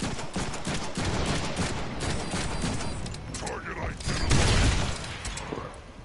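Rapid gunfire in the Deadpool video game, a dense burst of shots running for several seconds among other game sounds and a heavy thump near the end.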